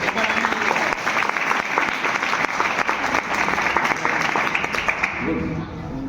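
A seminar audience at a business opportunity program claps loudly and steadily for about six seconds, a dense sustained wash of many hands that fades slightly at the end.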